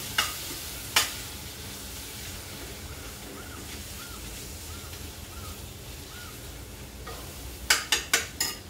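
Gram flour roasting with turmeric and coriander-cumin powder in a pan, a steady sizzle under a ladle stirring, with sharp metal clinks against the pan's rim near the start and a quick run of four at the end.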